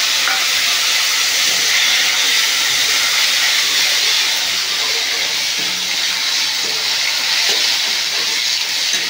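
Chopped tomato sizzles steadily in a hot pan for a vegetarian cabbage dish cooked without onion, garlic or asafoetida, a loud continuous hiss of frying with no voices.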